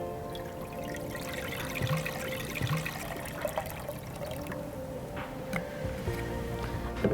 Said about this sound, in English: I am adding 400 ml of water into the vessel